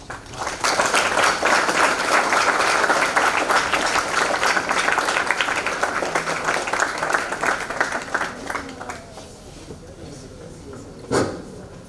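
An audience applauds in a school hall at a mock parliament to welcome the chief guest, with dense sustained clapping that gradually thins out toward the end, followed by a brief isolated clap.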